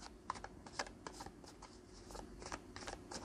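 Tarot cards being shuffled close up, a soft rapid riffling and flicking with light papery snaps, quiet and continuous with no talking.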